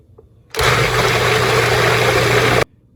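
A food processor spins homemade salsa seasoned with cumin, a loud steady whirring drone of about two seconds that starts and stops abruptly.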